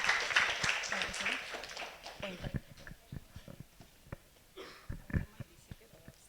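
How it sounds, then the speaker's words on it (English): Lecture audience applause at an Indonesia–Bulgaria diplomatic event starts as a faint, fairly distant patter of clapping, then thins into scattered individual claps. "Please warmly welcome and give a big round of applause to Dr. Tanya."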